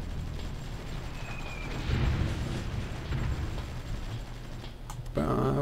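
Artillery barrages in the strategy game Supreme Ruler Ultimate, set in Kosovo, rumble as continuous low booming explosions that swell and fade over several seconds, ending with a sharper crackling burst.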